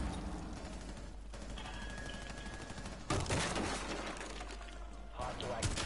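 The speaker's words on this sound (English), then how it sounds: "Why are you shooting at me?" Gunfire in the tactical shooter Rainbow Six Siege: bursts of automatic shots with some crashing impacts, the loudest burst starting midway, mixed with game noise and voices talking.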